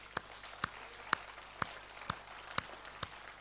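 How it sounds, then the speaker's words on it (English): Slow rhythmic hand claps, roughly seven evenly spaced sharp claps about half a second apart, from a worship gathering, crisp and fairly close over a faint room background. "Let's give him a hand clap."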